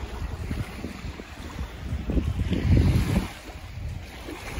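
Small waves wash onto a beach in Greece amid steady microphone wind noise, a soft rolling surge swelling to a louder rush near the middle before easing back, with no voices.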